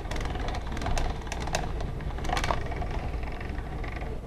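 Pasta dough is cranked through a pasta machine, giving a close, continuous mechanical rumble with small creaks and clicks from the rollers and no talking.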